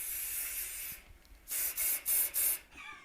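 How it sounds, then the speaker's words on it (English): Body spray hisses from an aerosol can in four quick bursts, close and crisp, following some fainter rubbing and rustling. "Please tell me that's just a new type of body spray."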